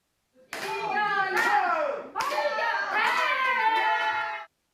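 Villagers in Okcheon County's Iwon-myeon, the hometown of archer Kim Woo-jin, erupt in loud shouting cheers and hand clapping at his gold-medal moment, in two sustained bursts separated by a brief pause.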